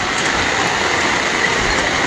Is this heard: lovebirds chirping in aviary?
no